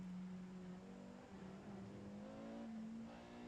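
Porsche 918 Spyder hybrid supercar at Monza with the driver easing on the throttle, a steady low engine drone that climbs slightly in pitch and holds at moderate, continuous level throughout.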